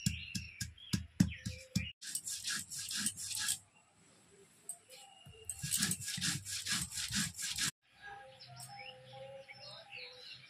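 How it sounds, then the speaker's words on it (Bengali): Chillies, ginger, cumin and coriander are ground by hand on a stone slab, a rough rhythmic scraping in quick bursts separated by pauses, with faint birdsong in the background. "এবার আমি মশলাটা বেটে নিই।"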